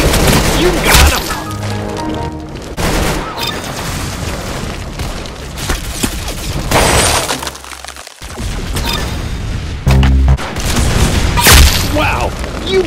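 Gunfire in the Roblox shooter Arsenal lands repeated loud, sharp shots with crunchy, glassy impact cracks, separated by short pauses and layered with game effects and excited talk.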